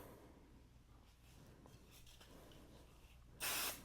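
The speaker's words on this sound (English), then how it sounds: "And then spray the other side." A spray bottle sprays the fabric of an art wallet in one short, sharp hiss that bursts out near the end after quiet handling and rustling of the material.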